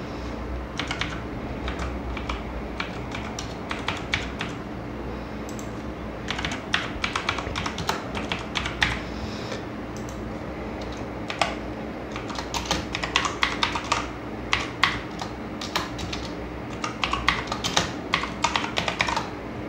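A bank account number being typed on a computer keyboard: soft, close key clicks in irregular bursts with short pauses between them, alone over a faint steady background hum.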